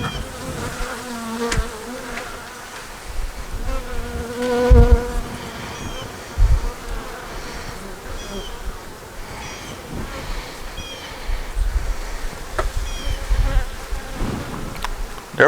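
Bees buzz steadily around a big, heavy hive opened for inspection, a dense droning swarm with individual insects passing close and fading, continuing throughout with no talk.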